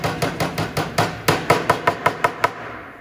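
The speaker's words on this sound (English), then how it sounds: "I'm just going to set them on this table and take a body hammer." A body hammer taps deformed metal parts laid on a table, about thirteen quick, sharp metallic strikes in an even rhythm, close and loud.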